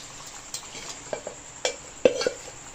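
Boiled chicken pieces tipped into a pan of frying spice masala, with a few stirring scrapes and brief sizzling bursts, the loudest clatter near the end.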